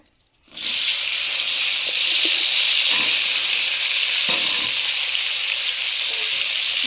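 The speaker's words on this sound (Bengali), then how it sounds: "ভালোভাবে উল্টে পাল্টে ভেজে নেব ভেন্ডিটাকে" Okra pieces sizzle loudly in hot oil in a pan, a steady bright frying hiss starting abruptly and continuing throughout, with occasional soft stirring knocks.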